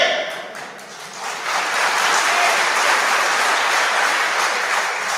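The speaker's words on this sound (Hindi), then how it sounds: "भाई ये मेरे लिए तालियां मत बजाओ।" Rally crowd applause swelling into a dense, sustained wash of clapping, fairly loud and continuous, with some indistinct voices mixed in.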